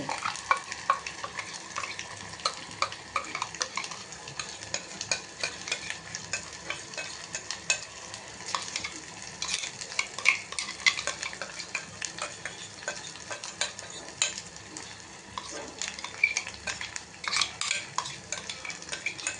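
Ground masala paste is stirred into a sizzling pan, with a continuous fry hiss and repeated spoon scrapes and taps against the metal for a long stretch.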